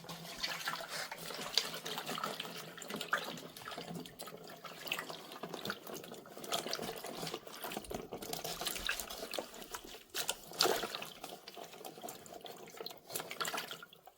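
Running tap water splashes steadily into a sink while green garlic is washed, a continuous moderately loud flow with small irregular surges and drips and no voices.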